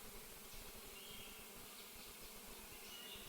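Soft, steady insect-like hum of bees in the cozy beekeeping game APICO, a low continuous drone held evenly throughout with no talking.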